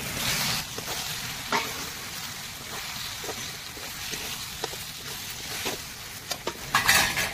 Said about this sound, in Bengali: এবারে এই ভাজা পটলগুলো আমি দিয়ে দেবো, কেন মশলা থেকে তেল ছেড়ে গেছে